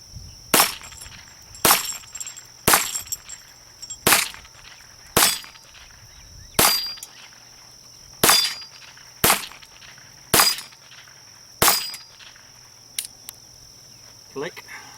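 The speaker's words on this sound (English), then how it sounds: "Shoot a few more times and then we'll back up, say 100 yards" Sharp cracks from a Ruger Mark I .22 pistol ring out about ten times in a steady, evenly spaced rhythm outdoors at a range, each a short snap with a brief tail, over a faint background.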